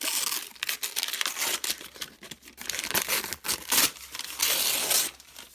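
Crinkling and tearing of packaging as a monthly subscription book is unwrapped, steady close rustles and rips continuing without pause for several seconds, no talking.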